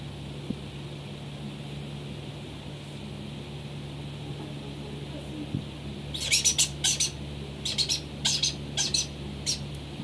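A pet bird that has been fed papaya chirps in a quiet room. Short bursts of high tweets come in clusters during the second half, over a steady low hum.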